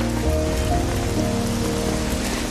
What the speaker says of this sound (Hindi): अचानक से काफी तेजी से बारिश चालू हो जाती है।